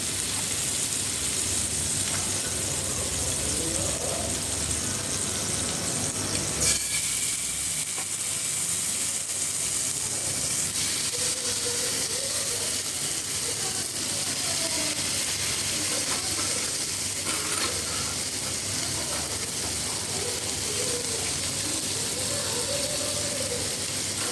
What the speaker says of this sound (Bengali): এবার এর মধ্যে এই ম্যারিনেট করা মাছগুলো মশলা সমেত বসিয়ে দিচ্ছি।